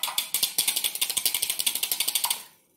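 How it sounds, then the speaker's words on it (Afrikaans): Rapid rhythmic clicking of a hand whisk beating in a bowl, a fast even train of bright scraping strokes that stops abruptly after about two and a half seconds, heard close with no talking. "Lekker, hy klits"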